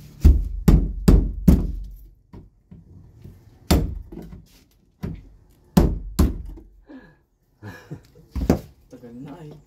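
A hammer strikes a rusted, seized part in a series of sharp metallic knocks, first fast and then spaced out, close up, while people talk in between the blows.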